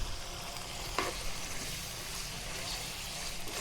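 Turmeric is stirred gently in hot ghee over a medium flame for chicken jalfrezi, producing a soft, even sizzle with one brief scrape of a spoon early on.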